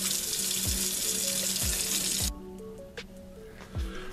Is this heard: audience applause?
no